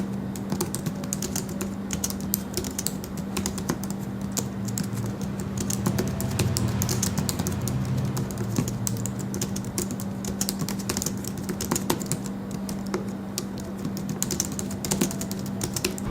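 Soft, muted keystrokes patter continuously on a low-profile Logitech MX Keys S keyboard, quick and irregular, close up with a low steady hum underneath.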